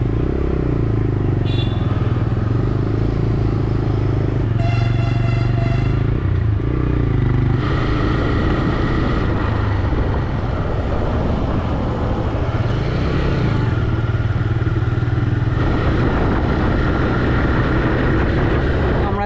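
Motorcycle ridden uphill on a hill road near Chalsa, its engine droning close and continuous with rising and falling revs, plus a few brief rattles and wind noise.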